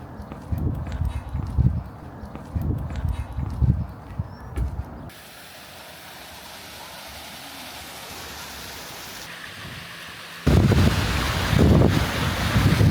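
Wind gusting beside the Soča river, a rough low rumble with buffeting on the microphone, loud at the start, easing to a steadier hiss, then surging again near the end; no talking.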